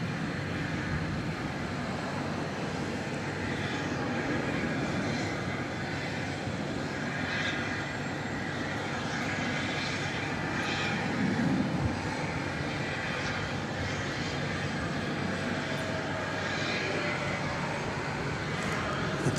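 A United Airbus A320 at DFW Airport at night makes a steady distant jet engine roar that holds evenly throughout, with faint background noise.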